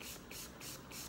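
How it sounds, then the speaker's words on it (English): A small spray bottle of plain water mists a curly wig, giving a few rapid, soft hissing spritzes in quick succession, quiet and close with no speech. "I have a little spray bottle here, and it's just water"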